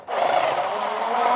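A power driver runs screws into a door hinge, a steady close whirring grind with no talk over it.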